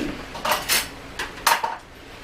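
A big stock pot of soup for canning is set down and handled, with several clanking metal knocks and scrapes at close range in a quiet kitchen.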